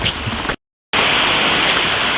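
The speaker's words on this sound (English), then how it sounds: "sorry I didn't see the downpour coming" A heavy rain downpour hisses loudly outdoors during archery with a recurve target sight, a dense steady wash of noise that cuts out for a moment and then returns just as strong.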